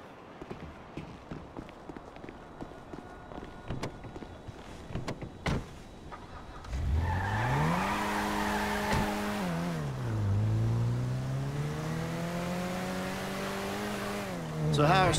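Car driven along a highway in GTA V, a steady engine drone that rises and falls in pitch as it accelerates and shifts, following a quieter stretch of clicks and small mechanical noises.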